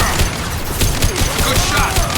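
Heavy gunfire bursts in Mass Effect 2, a dense, loud stream of close shots and impacts running for two seconds with battle noise beneath.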